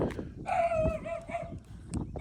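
A dog barks and yips outdoors near a house, a few sharp close barks with whining tones between them.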